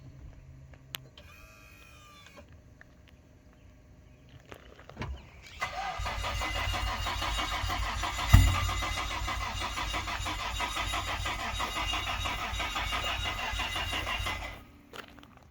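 A Nissan R32 GTR engine cold starts after sitting with old fuel: a short cranking burst, then the engine catches and settles into a loud, steady, rough idle that runs for about ten seconds before cutting off.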